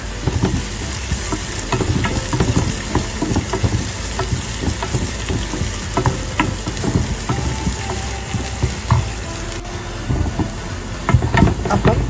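Shallots and curry leaves fry loudly in hot oil for a Kerala-style chicken stew, a steady close sizzle broken by scraping stirs and small clicks throughout.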